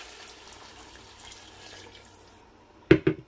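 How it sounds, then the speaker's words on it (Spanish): Water is poured into a pot of cooked potatoes in a home kitchen. A short, loud splashing burst comes near the end after a quiet stretch. "ya está lista la papa ya la dejé unos minutos ahí ahora le voy a echar el agua"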